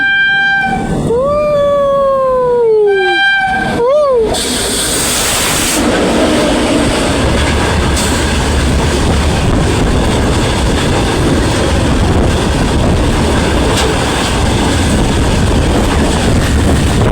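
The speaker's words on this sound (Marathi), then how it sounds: "आता एक ट्रेन येते" Train passing on the Delhi to Mumbai line, heard from an open doorway of another moving train. A loud horn sounds with falling pitch, then a sustained roar and rattle of carriages rushes past close by.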